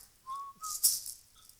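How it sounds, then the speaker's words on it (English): Short, faint whistling, with a few brief whistled notes and a quick rattling burst in between, heard alone with no talk. "And we're stopping the whistling."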